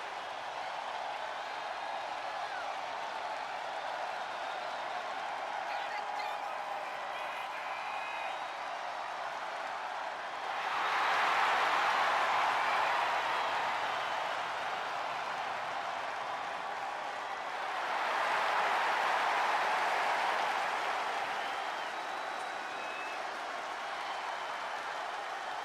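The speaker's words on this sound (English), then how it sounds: "That crowd would be louder than this." Arena crowd noise from the WWE 2K25 wrestling game during a SmackDown show, a steady low roar that swells into two louder cheering surges partway through, with no talk over it.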